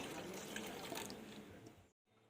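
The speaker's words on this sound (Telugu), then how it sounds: "ఇందులోనే కొన్ని వాటర్ పోసుకొని ఇందులో పోసేసుకుందాం" Water pours with a faint, continuous trickle into a container of blended raw mango juice, then stops abruptly near the end.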